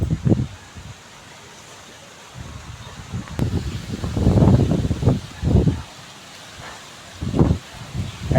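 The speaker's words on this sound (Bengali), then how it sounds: "কি হাওয়াতে কি কত জোর নড়ছে গাছপালা" Gusty storm wind roars through trees, including papaya trees, in uneven surges, with rustling bursts rising and falling over a low rumbling background and light rain.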